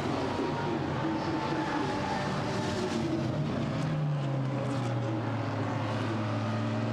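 GT4 race cars, a KTM X-Bow and a Sin R1, race at Misano, their engines a steady loud roar throughout, with one engine note dropping in pitch as it passes partway through.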